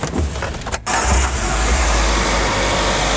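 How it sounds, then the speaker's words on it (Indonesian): A car engine cranks briefly, catches after a short pause and settles into a loud, steady idle, right after flushing oil is poured in for an engine lubrication-system cleaning. "Baru kita nyalakan mobil."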